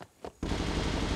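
In the video game SCUM, a brief quiet moment, then loud rapid-fire gunfire erupts suddenly and continues as a sustained automatic burst.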